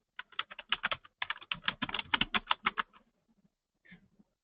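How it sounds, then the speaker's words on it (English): Rapid keystrokes on a computer keyboard, close and clear, in two quick bursts of irregular clicking followed by a few faint scattered taps. "In the search area, I'm going to type in onions fresh"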